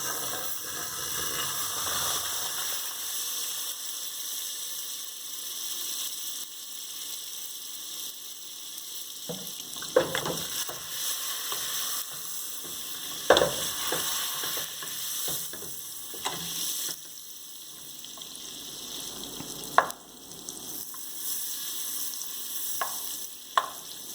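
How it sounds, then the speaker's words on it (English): A whole stick of butter melting in a pot over a medium flame, giving a steady soft sizzle throughout with a few sharp clicks and taps of utensils against the pot. "to my pot I am adding 1 whole stick of butter."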